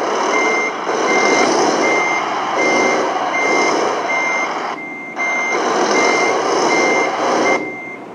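A truck in Euro Truck Simulator 2 reverses with a loud engine drone and a steady, regularly repeating backup beep. The sound drops briefly midway, and no one talks.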